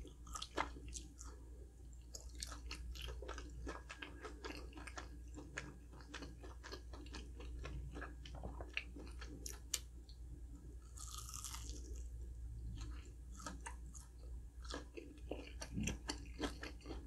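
Crunchy, wet chewing of fried mozzarella cheese sticks from Arby's, heard up close as a steady run of bites and mastication with no talking.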